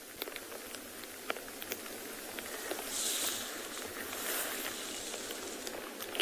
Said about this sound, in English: You can probably hear the rain now.